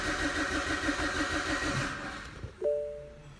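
A BMW 1 Series E88 with the N43 petrol engine cranks over with a fast rhythmic chug for about two seconds, then stops, leaving a short clunk and a faint whine at moderate distance.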